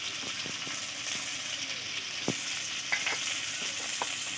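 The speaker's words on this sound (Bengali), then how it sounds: "লাল করে ভেজে নেবো। নাও ওয়েট ফর ডিপ ফ্রাই" Potatoes deep frying in oil give a soft, constant sizzle, with scattered quick clicks and taps from stirring on top, close but low in level.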